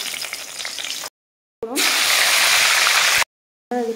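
Two dried red chillies sizzle and crackle loudly in hot oil in a pan, a steady broadband frying hiss broken by brief gaps of silence, with a short burst of voice near the end.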